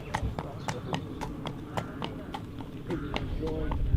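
Hooves clip-clop on a hard stable yard as a racehorse in a National Hunt trainer's yard is led past, a steady run of close, sharp knocks with talk in the background.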